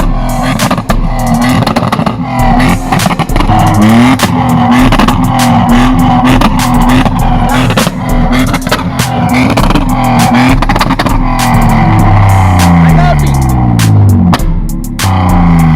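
A BMW E34 with an M50B20 inline-six revs hard and repeatedly, loud and close, with rising and falling engine tones and sharp crackling exhaust pops throughout.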